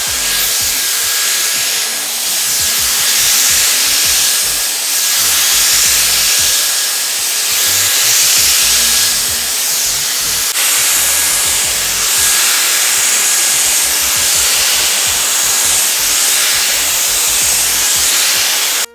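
A Dyson Airwrap hair styler blows steadily on medium heat and medium fan speed, a loud, continuous airy whoosh with a faint high whine running through it, close and uninterrupted for the whole stretch.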